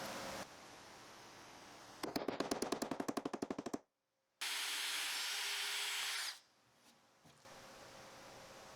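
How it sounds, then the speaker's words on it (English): A power drill fitted with a 1/4 inch bit bores out a hole, giving a loud rapid pulsing rattle for under two seconds. Steady hiss and whirring come before and after, followed by a brief silence. "drilled that out with a 1/4 inch drill bit"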